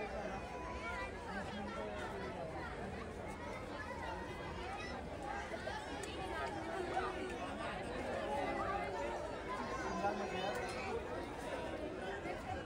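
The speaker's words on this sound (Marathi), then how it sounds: "गर्दी खूप आहे." A crowd of people waiting in line for boats at Venna Lake in the rain, a steady hubbub of overlapping chatter and voices from near and far, with a nearby voice talking over it.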